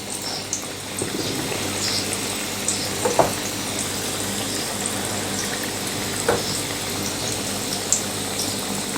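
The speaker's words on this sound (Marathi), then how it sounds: "आता मीडियम गॅसवरती ही भजी छान खरपूस तळून घेऊयात" Onion crab-style kanda bhaji fry in hot oil over medium heat, giving a steady bubbling sizzle with scattered small pops and crackles throughout.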